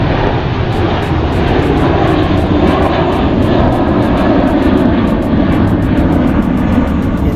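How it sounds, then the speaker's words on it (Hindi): An airplane passes low near an airport, a loud, steady engine roar that fills the whole stretch without letup and with no talk over it. "ये फिर से हवाई जहाज आ गई।"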